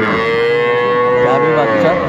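Cows lowing with a calf at a busy cattle market at Aftabganj haat, Dinajpur; a sustained, fairly loud moo with strong harmonics rises over a steady murmur of market crowd noise.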